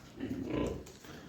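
Piglets grunt in short, low snuffling bursts close by, with a brief quieter gap before the grunting resumes.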